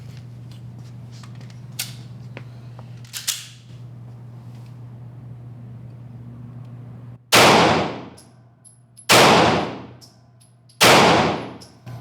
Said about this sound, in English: First of all, I'll just shoot generally so you can see how the laser works